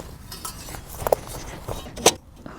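Perforated metal shelf plate slotted into place on a fire pit stove, a few light metallic clinks and one brighter clank, close and fairly quiet against a soft background.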